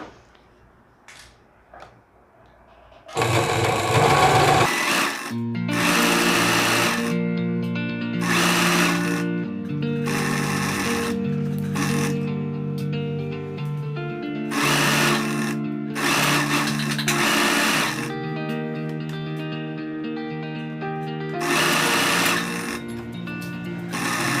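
A sewing machine stitches a Japanese-sleeve dress, running in several loud, sustained bursts separated by short pauses, close and alone with no talk.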